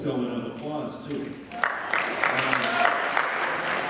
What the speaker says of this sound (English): You guys can get little ripples going of applause too.